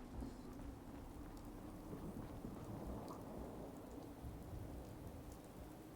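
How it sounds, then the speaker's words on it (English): Steady rain hisses with low rumbling thunder rolling underneath in Fallout 4, continuous and fairly quiet, with no voices. "Oh god, it's raining."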